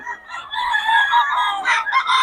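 A rooster crows close by in one long, strained call, followed by a couple of shorter squawks, with no talking.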